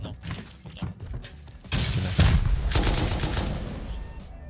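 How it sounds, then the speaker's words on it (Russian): Rapid machine-gun bursts in the survival game Rust, loud and dense from about the middle onward, with quieter scattered shots before, under faint voices. "Пулемет? Пулемет, кстати."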